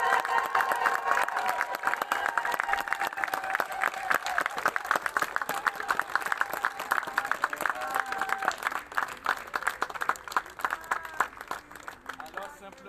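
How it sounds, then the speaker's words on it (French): Mourners at a funeral cheer and clap together, with voices raised in acclaim, sustained crowd noise and steady clapping running for over ten seconds with a sung or chanted tone woven through it. "on va pousser des cris d'ovation, des acclamations"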